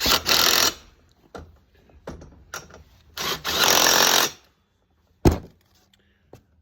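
Impact wrench tightening wheel nuts on a Razor MX350 scooter, with loud buzzing bursts separated by pauses, clunks and a sharp knock near the end.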